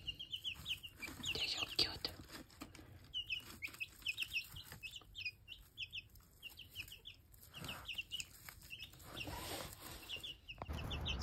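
A small group of young pet chickens kept indoors with a tiny nest, clucking and peeping in rapid, high chirpy bursts throughout, close but fairly quiet over low room noise.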